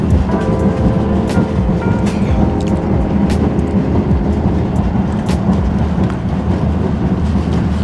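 Cabin of a high-speed bullet train in Uzbekistan at speed, a loud continuous low rumble and roar with faint rhythmic clatter and occasional sharp clicks, no voices.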